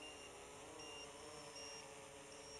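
A Bayangtoys X16 drone fitted with a Matek F405SE flight controller beeps its low-battery warning at about 20% charge, faint repeated tones over a steady background hum.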